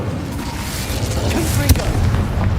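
An Incendio fire spell cast in the video game Hogwarts Legacy, a deep booming burst near the middle over a continuous low rumbling game soundscape, with a voice speaking.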